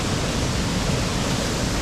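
Water rushes steadily through a diversion pipe at Rifle Falls State Park, a loud, even roar that fills the whole moment without pause.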